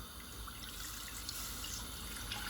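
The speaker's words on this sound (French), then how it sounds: "Je vais rajouter un peu d'eau." Water runs steadily into a cooking pot, a continuous close splashing pour with a bright hiss that barely changes over the few seconds, with no talk over it.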